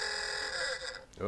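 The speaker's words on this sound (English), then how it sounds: "that's my alarm." An alarm buzzes during a talk at an NGO expo in New York, a steady electronic tone that fades out as a person briefly exclaims over it.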